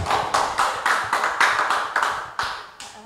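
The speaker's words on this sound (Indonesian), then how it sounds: "Boleh tepuk tangan buat Ibu Duyana." A small audience claps for a guest official at a Kaltara economic talk event, giving a short burst of about nine distinct, fairly loud claps in a loose, slightly uneven rhythm, close to the microphone.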